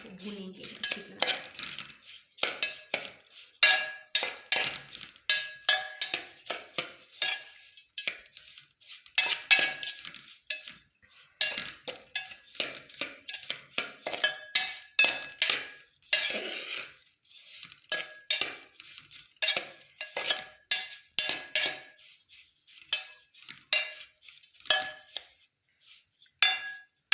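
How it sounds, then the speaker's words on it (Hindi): Semolina being roasted in desi ghee in a pan for sooji halwa, a near steady run of metallic spoon scrapes and clinks against the pan, repeated scraping strokes throughout with no talk. "तो अब हम घी के साथ अपनी सूजी को भूनेंगे अच्छी तरह"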